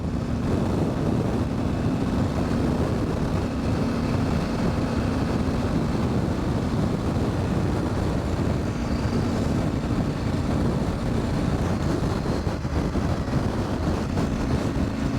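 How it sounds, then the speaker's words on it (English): Steady, loud roaring wind buffeting the microphone on a KTM 790 Adventure motorcycle ride, with a constant low rumble underneath throughout and no speech. "I'm starting to get some wind noise."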